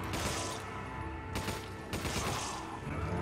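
Gunfire in Resident Evil 5, a fairly quiet mix of rapid shots and clattering bursts over continuous background noise.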